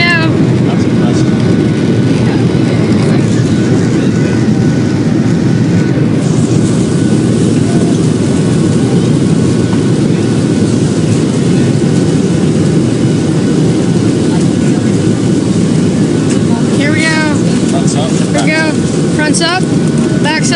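A passenger jet on its takeoff run roars loud and steady from inside the cabin, with engine noise and rumble filling the whole stretch, while a voice speaks briefly near the end.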